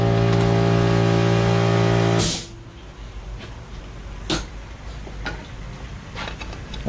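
A Yamaha 15hp outboard motor idles with a steady, close engine drone, then is switched off and cuts out abruptly, leaving quiet room tone broken by a few faint clicks and knocks.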